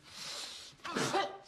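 A single human sneeze bursts out sharply after a brief breathy inhale, close and clear, with no talk during it.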